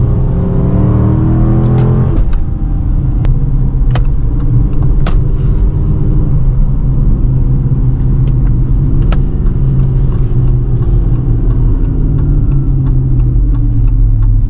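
A Dodge Charger R/T engine with an aftermarket exhaust drones steadily from inside while driving, a deep low exhaust rumble with a brief rev change and occasional clicks and rattles.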